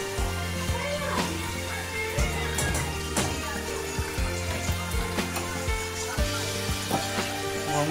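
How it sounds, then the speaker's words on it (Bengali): Roti cooking in a kitchen in the Thangu valley, North Sikkim, with a low steady hiss and sizzle under repeated soft thuds and clatter, and faint voices in the background. "আর এখন রুটি করছে, রুটি খাওয়া যাবে।"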